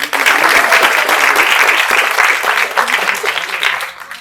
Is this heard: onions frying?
no